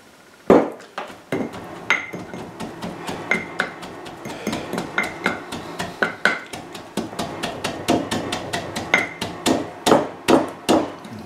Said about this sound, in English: sloshing just a bit when I compact it